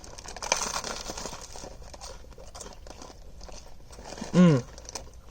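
Teeth biting into the crusty bread of a Vietnamese pork roll from a bakery, soft crinkling and crackling up close with brief crunchy bites, then a short louder sound near the end.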